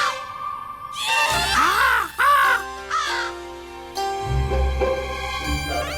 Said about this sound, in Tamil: பறவைகளும் கத்திக்கிட்டு தான் இருக்கு.